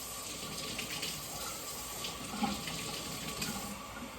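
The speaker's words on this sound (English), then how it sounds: "I'm gonna put a little bit of warm water in the cup and I'm gonna add a little bit to each." Warm water trickles steadily from a tap into a cup for mixing fraction playdough, a faint, continuous running stream with no talking.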